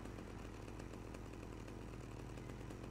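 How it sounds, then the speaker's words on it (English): Chainsaw running in GTA Vice City, a steady, buzzing, high-revving drone at constant loudness that holds unbroken throughout, close and alone with no speech. "Chainsaw."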